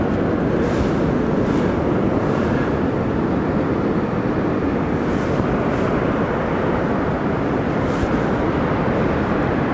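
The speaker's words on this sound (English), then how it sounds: "It's good to watch the waves for a while just to get the feeling of what they're doing." Ocean surf rolls onto a shore in a steady, continuous wash of broadband noise, loud and close with wind buffeting the microphone and no voices.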